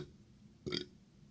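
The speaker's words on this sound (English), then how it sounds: "if I burp, it's a sign of a good beer." A single short burp after drinking Tyskie beer, sharp and brief against a quiet room, standing alone without talk.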